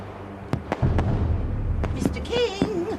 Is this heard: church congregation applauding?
no